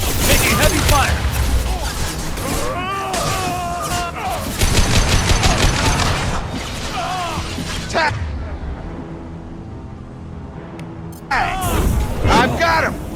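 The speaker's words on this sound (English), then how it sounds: "Taking heavy fire!" Gunfire in the video game Mass Effect 2, with dense, loud bursts of shots and impacts mixed with shouting combat voices and a brief lull before another volley.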